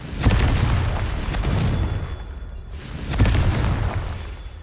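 Confringo fire spell blasts in the Hogwarts Legacy video game, two loud booming bursts about three seconds apart, with no talking.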